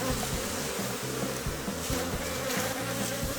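Honeybees buzz in dense, continuous droning around a small hive, close and loud, many wings overlapping in a steady hum with no talking.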